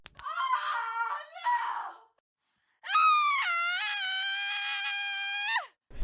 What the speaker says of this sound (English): She screams in horror.